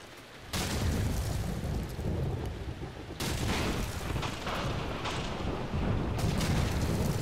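A grenade blows up during a Call of Duty 4 Search and Destroy match, a loud booming blast among continuous heavy gunfire and rumbling bursts that cut in and out several times.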